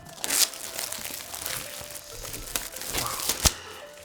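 Packaging on a Pixelbook box is cut and opened with an unboxing knife, giving close, crinkly crackles and sharp tearing snaps at an uneven pace, fairly quiet overall.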